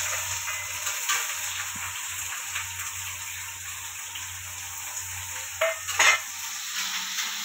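Chopped onion, green chilies and curry leaves frying in a pan for ridge gourd chutney, a steady soft sizzle with occasional stirring scrapes and a louder clatter near the end, close and alone.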